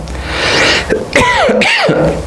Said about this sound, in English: I'm sorry, you have to hear me cough